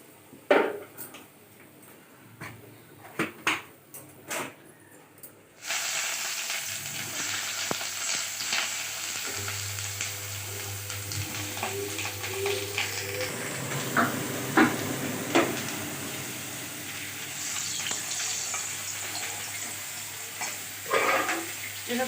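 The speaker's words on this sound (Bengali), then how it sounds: "এই কড়াইয়ে বেগুন ভেজে নিব।" Brinjal frying in oil in a wok sizzles steadily and up close, with a few clinks and scrapes of stirring in the first seconds before the continuous hiss takes over.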